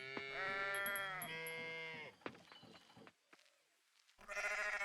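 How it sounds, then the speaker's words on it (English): Sheep in the farming video game Coral Island bleat loudly and close, two or three long wavering cries in quick succession, then a pause with quieter game sounds before another bleat starts at the end. "Go away, sheep."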